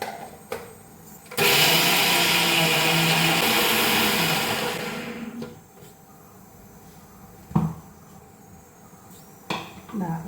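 Mixer grinder whirs loudly for several seconds while grinding turmeric and chili powder into a masala for an ivy gourd curry, then cuts off, leaving a quiet kitchen with a few faint clinks.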